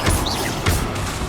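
Spell impacts from the Hogwarts Legacy video game hit loudly twice, each a bursting crash over a dense, roaring battle din with whooshing effects throughout.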